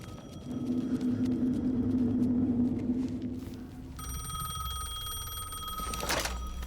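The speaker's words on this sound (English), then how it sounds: "The phone again." A telephone rings in Alan Wake 2: a steady electronic bell tone starts partway through and rings continuously over a low game ambience rumble, with a brief bright burst near the end.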